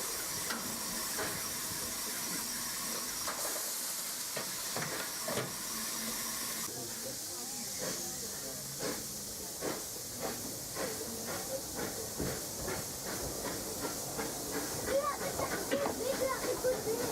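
A steam locomotive on the Vale of Rheidol narrow-gauge railway in Wales hisses steadily while taking on water at a stop, a continuous near rush with faint clanks and knocks, and a voice speaks over it partway through.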